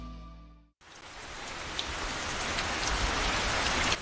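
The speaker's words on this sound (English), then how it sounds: "That's the sound of a leaky roof." Water drips and patters steadily through a leaky roof after a sustained tone cuts off. The dense, rain-like spatter builds slightly in loudness and runs without any voices.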